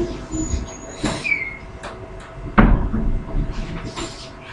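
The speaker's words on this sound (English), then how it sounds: "Now please close the door." A door swings shut in a classroom or lab setting, giving one sharp, fairly close thud amid faint background room noise and a few small knocks.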